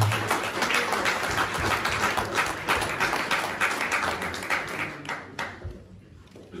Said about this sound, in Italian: ringraziarlo col vostro applauso e col nostro